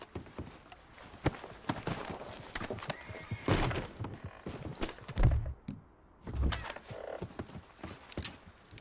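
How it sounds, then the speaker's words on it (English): Horse whinnies in Red Dead Redemption 2, with clip-clop hooves and creaking gear mixed in among sharp game sound effects, fairly close and loud. "Es mi caballo, me asusté."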